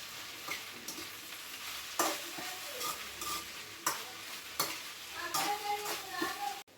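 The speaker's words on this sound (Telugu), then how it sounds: "ఒకసారి ఫ్రై కూడా కలుపుకున్నాము. మధ్య మధ్యలో కలుపుతూ ఉండాలి." Okra fry being stirred in a pan for a home-cooked meal, with a steady oil sizzle and repeated scraping strokes of the spoon against the pan, close and clear, no voices.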